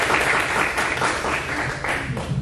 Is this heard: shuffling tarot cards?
no